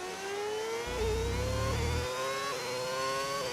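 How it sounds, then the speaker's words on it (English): Simulated V8 engine sound mod in the F1 25 racing game, a whirring engine note rising and shifting pitch through several gear changes under a low rumble, steady and close with no talk. "It's a mod that it sounds like it's meant to sound like a V8"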